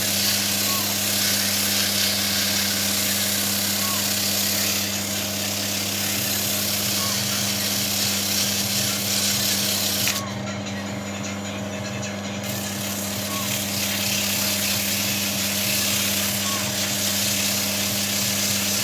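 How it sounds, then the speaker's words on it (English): A wooden ball is sanded, apparently on a powered machine, with a steady, continuous whirring rasp and motor hum that runs close and unbroken for the whole stretch, dipping slightly in brightness partway through. "So I filmed the most exciting part, the sanding."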